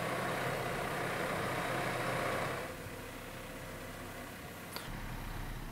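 A Valtra tractor engine idles steadily at just under 1000 rpm, a continuous low rumble that eases slightly partway through and carries on evenly at close range.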